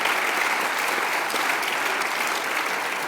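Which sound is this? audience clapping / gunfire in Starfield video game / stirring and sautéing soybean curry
audience clapping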